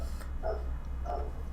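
A dog in the background of a podcast recording gives two muffled, faint barks about half a second apart, under a steady low hum.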